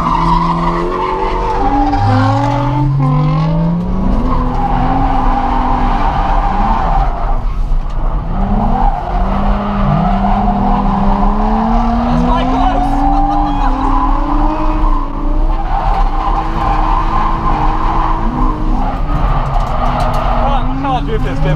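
A Nissan 350Z drifting at Santa Pod on a drift day, its engine revving up and down in waves, tyres squealing and skidding loudly and close throughout, with a voice talking over it from inside the car.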